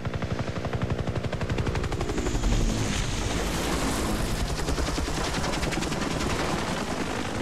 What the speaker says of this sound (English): Alright, now the chopper comes.